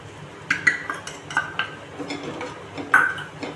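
A metal spoon stirs spices in a hot tawa on the stove, making several sharp clinks and scrapes against the pan, close and fairly loud, with no talk.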